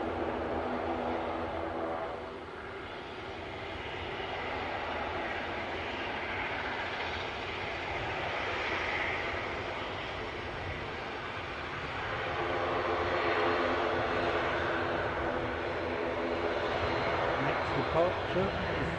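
A Loganair ATR turboprop runs its engines at Aberdeen airport, a sustained broad engine drone that swells and eases over the stretch, heard at some distance.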